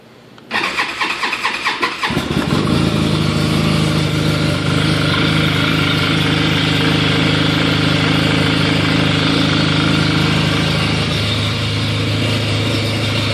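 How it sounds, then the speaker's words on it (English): A 2012 Arctic Cat XF 1100 snowmobile engine cranks briefly, catches, and settles into a loud, steady idle close by, with no talking. "fire it up, you guys can hear it run"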